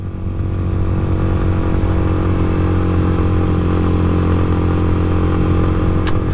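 Motorcycle riding on a slippery mountain road, its engine droning steadily and loud throughout, close up, with wind rush and no talk.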